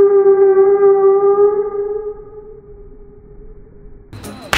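A firecracker set off inside a water gallon at midnight gives a steady, loud rocket-like whistling tone that holds for a few seconds and slowly fades, then a sharp crackling pop bursts at the end.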